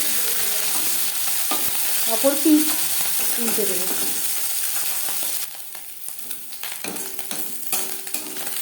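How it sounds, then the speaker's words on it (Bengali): Small puti fish crisping in hot refined oil, a steady sizzle with scraping stirs, while a voice talks over it; the frying fades lower and quieter toward the end. "ক্রিস্পি করে মাছ ভাজা হয়ে গেছে"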